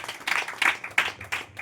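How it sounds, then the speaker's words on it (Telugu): A congregation at a church gathering claps in uneven bursts, several loud waves of applause close together with no talk over them. "కొట్టలు చప్పట్లు గట్టిగా"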